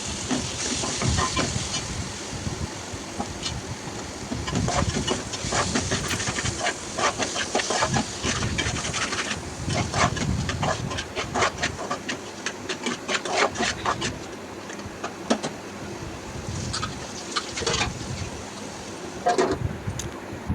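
Mutton liver pieces frying with onions in a pan, a steady broadband sizzle and hiss with scattered crackles and scraping rubs throughout, close and continuous with no talking.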